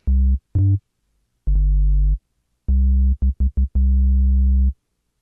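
A synthesized 808-style bass tone, a sine wave thickened with added harmonics and distortion, plays as a string of about nine clean notes of varying length: two short hits, a long held tone, quick stabs and a final sustained note, each separated by silence.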